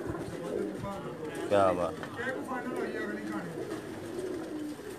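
Pigeons coo at a pigeon show in Jeddah, where Pakistani show pigeons are presented, a few soft coos rising under ongoing nearby chatter from onlookers.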